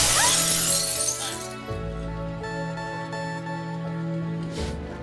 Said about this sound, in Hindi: पहली बार तेरी गाड़ी का कांच तोड़ा था